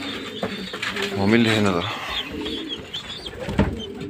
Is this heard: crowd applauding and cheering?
no